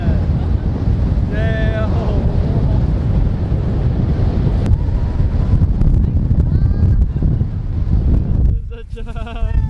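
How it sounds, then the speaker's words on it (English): Strong gusts on an island coast by a lighthouse batter the microphone with a loud, continuous low roar, while a person speaks briefly over it and the rush eases slightly near the end. "Holy crap, the wind is so strong."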